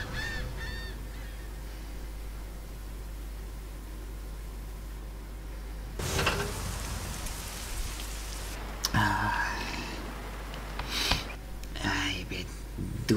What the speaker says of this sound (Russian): Дождь, слякоть, морозяка.